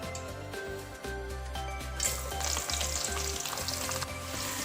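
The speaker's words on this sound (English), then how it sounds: "we'll just stir fry the mushrooms in the oil" Mushrooms stir-fried in cooking oil in a wok, giving a steady close sizzle with bursts of stirring, under background music and with no talking.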